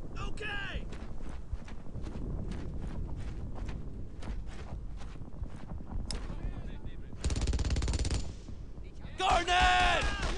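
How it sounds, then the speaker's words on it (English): Rapid bursts of rifle and machine-gun fire in a World War II shooter, Brothers In Arms: Earned In Blood, crackle through a busy battlefield mix with louder volleys near the end, while voices shout over the shooting. "A lot of bullets are coming my way here!"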